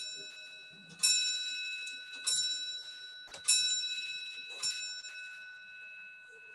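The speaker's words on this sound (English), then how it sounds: "Sorry, the clock's going to go." A clock striking, with four bright metallic bell tones spaced about a second apart. Each rings out clearly and decays slowly in a quiet room.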